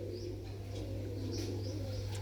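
Pigeons coo softly at a loft, low gentle calls repeating a few times over a constant low hum, faint and somewhat distant.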